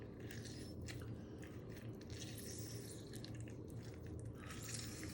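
A lemon squeezed by hand over a bowl for a prawn cocktail sauce, its juice dripping in; faint, steady and close, with no talking.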